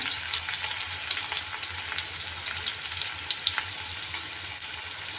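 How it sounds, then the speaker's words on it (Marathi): Chopped onion fries in oil with mustard seeds, a dense, even sizzle with faint crackles throughout, close and fairly loud, and no one speaking. "कांदा लाल करून घेऊया"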